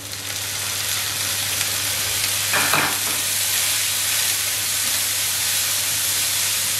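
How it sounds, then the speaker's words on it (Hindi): Ginger garlic paste frying with softened onions in a pan, a loud, constant close sizzle and hiss with a brief stirring scrape in the middle, no talk. "अब हम इसमें 1 टेबलस्पून अदरक लहसुन का पेस्ट डाल देंगे।"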